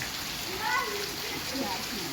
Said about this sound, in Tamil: இருக்க மழை உறுதியாக தான் பிடிக்குது